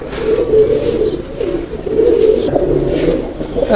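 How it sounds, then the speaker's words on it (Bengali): Two Bhushal flying pigeons coo up close in loud, continuous throaty rolls that swell and repeat. "এই দুটো হচ্ছে ভুচাল কবুতার"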